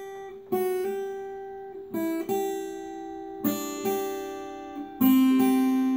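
An acoustic-style guitar plays the intro riff of a song alone, picking distinct plucked notes in short repeated phrases with clear attacks and ringing decays, close and moderately quiet.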